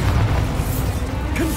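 Bombarda spell explosion in the Hogwarts Legacy video game, a loud, dense boom with a low rumbling body that fills the short moment.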